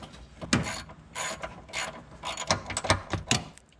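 A hand ratchet turns a bolt during front-end collision repair on a 2002 Ford Ranger, giving a close run of rapid clicking strokes in uneven bursts with short pauses and no voices.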